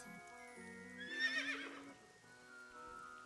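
A horse in the video game AI: The Somnium Files gives one clear whinny over soft background music, with faint clip-clop and rain-like sounds behind it.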